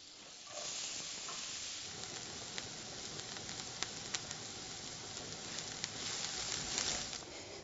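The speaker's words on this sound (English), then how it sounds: "we're going to be frying those onions" Onions fry in a pan with a soft, steady sizzle and hiss. Occasional small pops and crackles rise out of it, and the whole sound stays faint and even throughout.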